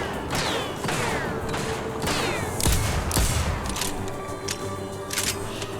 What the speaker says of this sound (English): Once they have aggro, they just keep shooting